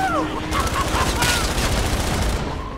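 Rapid sustained gunfire from a minigun in the video game Fortnite Save the World, a dense continuous burst running loud throughout with some talk mixed in.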